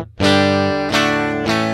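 An electric guitar runs through the combo amp simulation of a Yamaha GW10 multi-effects unit, with three loud, distorted chord strikes ringing and sustaining one after another.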